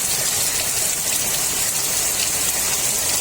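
Heavy monsoon-style rain pours steadily outside a home balcony, a loud, dense, unbroken hiss of falling water with no voices.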